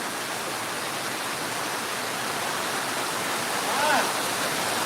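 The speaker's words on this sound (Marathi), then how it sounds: "खूप मोठा पाऊस या ठिकाणी पडत आहे" Heavy cloudburst-like downpour with lightning in Pirachi Kuroli village, a dense steady roar of rain and rushing floodwater, loud and unbroken, with a brief faint tonal sound near the end.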